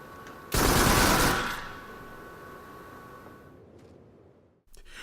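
Gunfire in the VR shooter Farpoint: one loud, sustained burst of automatic fire lasting about a second, then a fading reverberant tail and quiet game ambience, with a brief noise near the end.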